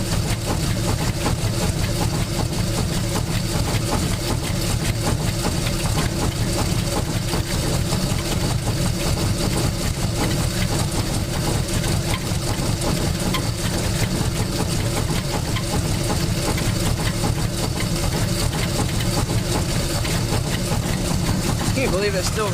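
A 1947 Cadillac Series 62 with a flat-head V8 idles low and steady, a continuous loud rumble that keeps the same pitch throughout and has no breaks.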